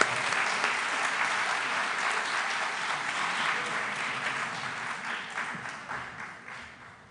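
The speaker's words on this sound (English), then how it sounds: "another round of applause" Audience at the Arctic Arts Summit 2022 applauds after a stage performance, a full, steady roar of clapping that gradually thins and fades away toward the end.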